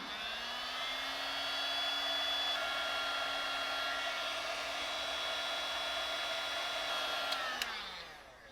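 A heat gun runs in a steady, loud whine as it shrinks solder seal connector tubing on boat trailer wiring, holding an even pitch before shutting off and winding down near the end, with no voices.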